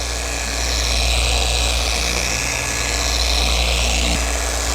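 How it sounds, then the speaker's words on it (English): A rotary polisher spins its pad across a headlight lens during a restoration, giving a steady, close motor drone with a low hum that holds level throughout, with no talking. "when you use a polisher, you always want to make sure that this pad is spinning clockwise"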